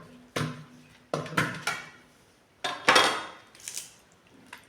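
Taro leaves being chopped with a knife make about six crisp, irregular chopping strikes that sound close and clear, with quiet pauses between them and no voices.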